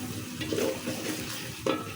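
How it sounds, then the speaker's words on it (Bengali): Coconut and nut paste being stirred in a hot pan while cooking a chicken roast, giving a soft, continuous sizzle with scraping strokes of the spoon and a sharper clack near the end, up close and without speech. "নারিকেল আর বাদাম বাটা দেওয়ার পরে ঘন ঘন নাড়াচাড়া করতে হবে তা না হলে পুড়ে যাওয়ার সম্ভাবনা আছে"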